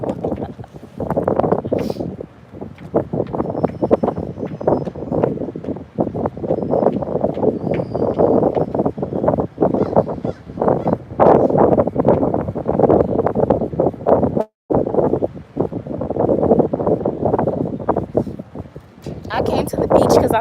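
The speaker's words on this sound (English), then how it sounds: "It's windy AF out here." Strong wind buffets the microphone at a beach, a continuous loud roaring rush with gusty swells across the whole stretch and a brief dropout midway.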